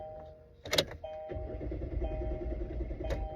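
Kia Forte with a no-start fault being cranked: a click and short chime, then a steady low mechanical cranking churn that continues without catching.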